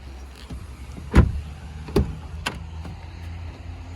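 Power windows on a Volkswagen Touran run in short electric whirs, three or four quick motor strokes a second or so apart, close and clear inside the car with no talk.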